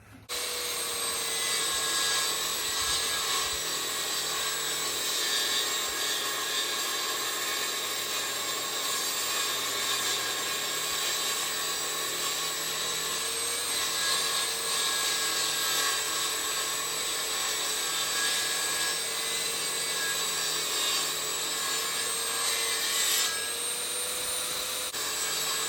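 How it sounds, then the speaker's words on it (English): A table saw rips a wooden board into pieces for a chicken coop, a steady, loud whining cut lasting about twenty seconds with a faint hum beneath and no talking. "we're going to divide it in 3 pieces by that table saw"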